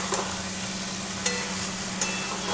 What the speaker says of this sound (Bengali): এবার এই মশলাটা দিয়ে ভালো করে আমি কষে নেব।